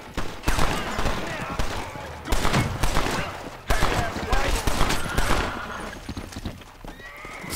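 Gunfire in the video game Red Dead Redemption, several loud sharp shots in irregular bursts mixed with horse whinnies and hoofbeats, close and dense across the stretch.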